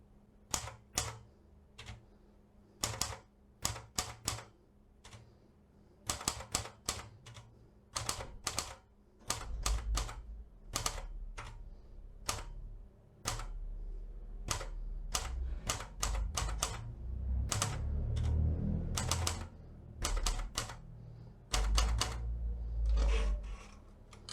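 A Seiko manual typewriter types a line of text: crisp, close key strikes in uneven bursts, with heavier thumps of carriage and shift mechanics later on, no talk.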